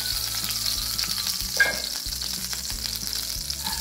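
A tablespoon of oil sizzles in a pan while tempering with curry leaves, a continuous close crackling fry with a brief louder spatter midway, no talking.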